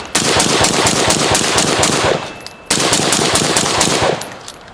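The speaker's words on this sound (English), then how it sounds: "Starting to shoot some fireballs." A Mark 18 rifle fitted with an Energetic Armament Ferox suppressor fires two long, rapid bursts of full-auto fire, close and loud, with a brief pause between them.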